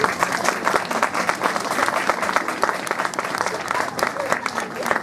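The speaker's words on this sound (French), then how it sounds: "Et je pense qu'on peut les applaudir" A crowd applauds at the opening of a Christmas market in Vic-sur-Seille, a dense, lively patter of many hands outdoors, steady and fairly loud, with some voices mixed in beneath.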